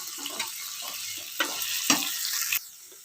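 Tomatoes sizzle in a pan with fried onions for mint rice, a soft hiss broken by a few brief scraping stirs, fairly close and without talk.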